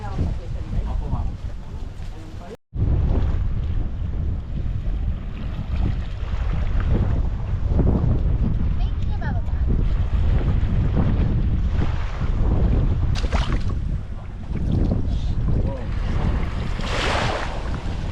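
Strong wind sweeps across a boat at sea off Balabac, Palawan, a loud continuous rush and buffeting mixed with waves and hull noise, with people talking throughout.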